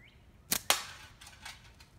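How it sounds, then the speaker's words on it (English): A flat-band slingshot fires at a can: two sharp, close snaps in quick succession, followed by a few faint ticks in an otherwise quiet space. "Let's see if we can shoot the can first."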